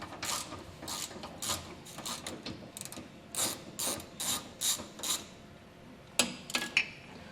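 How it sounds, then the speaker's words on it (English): A ratchet with a 10mm socket undoes a frame rail bolt on a 2022 Chevrolet during a helper spring install, giving bursts of close, crisp clicking in uneven runs, with a louder flurry near the end. "we have a 10mm socket on a ratchet"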